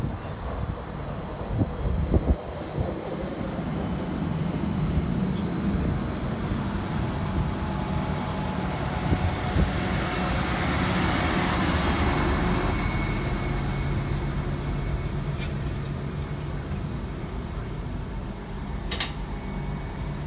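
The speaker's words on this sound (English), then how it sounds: "Arriving next into the station is 231006, working the 1320 Transport for Wales service from Rhymney through to Barry Island." Transport for Wales train 231006 pulling into a station on the Rhymney line, a long steady rumble of wheels and motors with squealing creaks, a faint high tone and a sharp brake hiss near the end, no talking.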